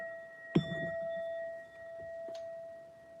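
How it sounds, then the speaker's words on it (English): A single soft bell strike chimes once with a short ringing decay, faint against a quiet background hum. "You get a strike of the bell for joining the stream."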